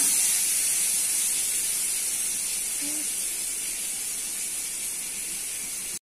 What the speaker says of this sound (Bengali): কড়াই তেল দিয়ে দিচ্ছি